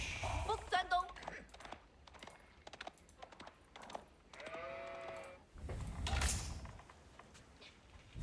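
Sheep bleat in the Age of Empires IV strategy game, a few short bleats mixed with creaking, clicking game effects and interface sounds while someone talks over them.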